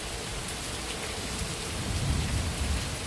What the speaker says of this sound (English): The good Lord has blessed us with some nice rain this morning, cooler temperatures.